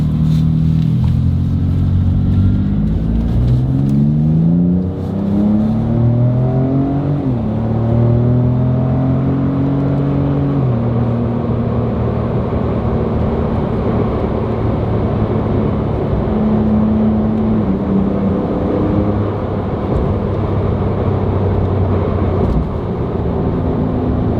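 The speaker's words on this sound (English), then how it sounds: "if we can capture the sound of the MagnaFlow exhaust while we're driving" A tuned 2020 Ford Raptor on 37-inch tires with a MagnaFlow exhaust, heard while driving. Its engine note climbs repeatedly through the gears in loud, close rising tones, with a steady road rumble underneath.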